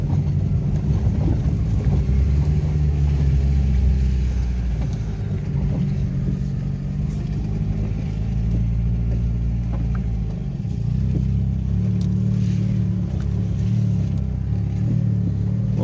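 A Citroën BX 14 petrol car drives along a muddy, marshy track, its engine a steady low rumble with wind buffeting throughout, close and continuous with no talk.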